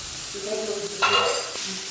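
Chicken kofta fries in a pan with a steady close sizzle and a brief louder crackle midway, accompanied by faint stirring sounds.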